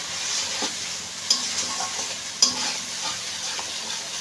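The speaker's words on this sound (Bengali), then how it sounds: "এইভাবে অনবরত নাড়তে হবে" Pointed gourd fries with spices in a pan as it is stirred constantly until dry, giving a soft, steady sizzle broken by a few sharp spatula scrapes and clicks against the pan.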